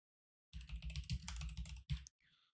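Quiet, fast typing on a computer keyboard: a dense run of close keystroke clicks lasting about a second and a half, then a short pause and a couple of final taps, with no voices.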